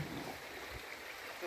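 River water flows steadily where dishes are being washed outdoors, a faint, continuous rushing wash with no voices over it.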